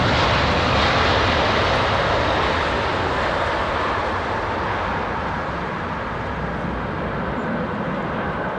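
A large airliner arriving on Heathrow runway 27R, its engines a loud, steady broadband roar that stays close and constant throughout, with no talk over it.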